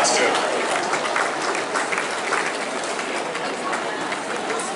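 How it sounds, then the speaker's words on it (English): A crowd at Royal Ascot, a horse-racing event, applauds loudly and continuously, a dense, steady wash of clapping that fades only slightly throughout. "round of applause as well, ladies gentlemen"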